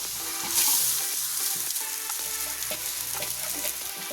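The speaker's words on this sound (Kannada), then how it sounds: "ಇವಾಗ ನಾನಿಲ್ಲಿ ರೈಸ್ ಹಾಕೊಳ್ತಾ ಇದ್ದೀನಿ" Rice being stirred into a hot frying pan for gooseberry chitranna, with a steady close sizzle and repeated scraping and clanking of the spoon against the pan throughout.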